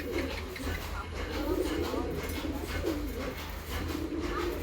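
A male pigeon coos continuously nearby, low rolling throaty bursts repeating every second or so over a constant low hum.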